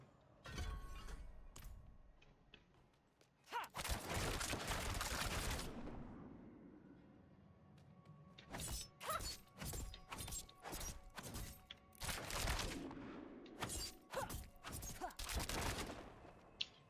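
A Rogue's Barrage skill in Diablo 4 fires rapid volleys of projectile impacts, a dense burst of crackling hits followed by a string of sharp, repeated bursts in quick succession, loud and with no speech.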